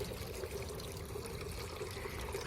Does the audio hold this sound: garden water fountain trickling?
yes